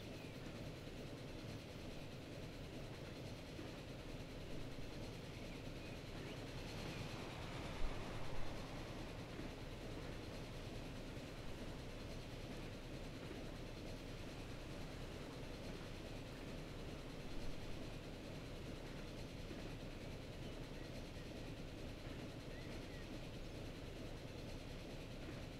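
Steady rumble and faint clatter of a train running along track in the railway game Transport Fever, continuous and fairly quiet with a couple of brief louder bumps, no talking.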